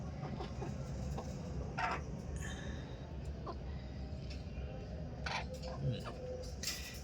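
Three roosters in a backyard cage give scattered, fairly faint clucks and short calls over a constant low rumble of outdoor background noise.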